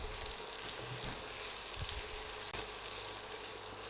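Sliced red and yellow capsicum and other vegetables stir-fry in a hot pan, giving a faint, continuous hissing sizzle with occasional soft stirring bumps.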